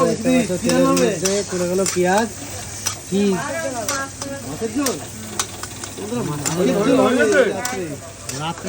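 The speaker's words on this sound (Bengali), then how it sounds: "দেখো কড়াইতে চলে গেছে পেঁয়াজ" Onion sizzles and fries in a wok while a fish curry is cooked, a steady crackling hiss with occasional stirring clatter, heard under a voice talking through most of it.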